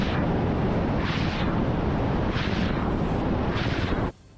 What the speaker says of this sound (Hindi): सेना के चॉपर ताबड़तोड़ फायरिंग करते दिखाई दिए। और जब ये हेलीकॉप्टर अपने निशाने के और करीब पहुंचे तो उनसे मिसाइलों की ऐसी बरसात शुरू हुई